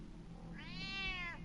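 A cat in the Batman: The Telltale Series video game gives a single drawn-out meow, clear and fairly loud, over a low steady background hum.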